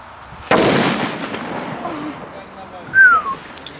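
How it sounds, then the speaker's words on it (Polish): A strong firecracker thrown on New Year's Eve night goes off with one sharp, loud bang that rolls away into a fading echo, followed by a brief whistle-like squeal and a few quieter pops. "weź, przytrzymaj i to rzuć mocno, bo to jest dobra petarda"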